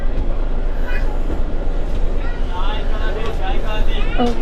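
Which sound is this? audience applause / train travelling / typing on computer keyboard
train travelling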